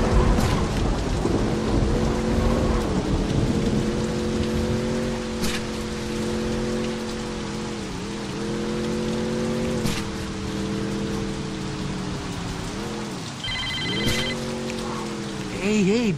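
Rain falls steadily in Saints Row 2, a continuous wash of rainfall under droning engine-like tones, with a few sharp cracks standing out.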